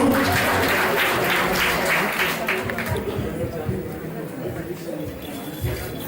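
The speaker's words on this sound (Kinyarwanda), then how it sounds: "Amashyi menshi kwa Yesu." Applause at a Christian church wedding ceremony: a dense, steady burst of clapping from a gathered crowd that gradually thins, with chatter and voices continuing underneath.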